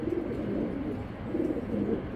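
Racing pigeons coo in low, murmuring bursts, faint and near, repeating several times with no voices over them.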